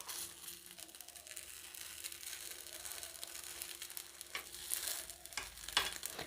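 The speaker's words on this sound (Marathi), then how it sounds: "चमच्याने हळूच असे आपे उलटवून घ्यायचे आहेत" Rava appe sizzling in an appe pan while a spoon turns them over, soft continuous frying crackle with small scraping clicks near the end.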